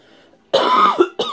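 Two close, harsh coughs from a person getting ready, the first longer and rougher, the second short and abrupt.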